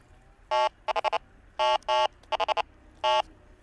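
A Flacarp Solux electronic fishing bite alarm beeps in sharp, high tones: long single beeps alternating with quick clusters of short ones, loud and close in a quiet room.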